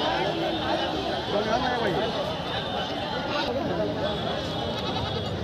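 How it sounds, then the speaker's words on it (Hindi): Goats, including Barbari cross goats, bleat at a crowded livestock market, wavering calls repeating amid dense crowd chatter and people talking nearby. "देखिए उधर बर्बरी क्रॉस की बकरी"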